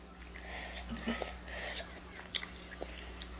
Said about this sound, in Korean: 이제 메인 음식 떡볶이를 먹어보겠습니다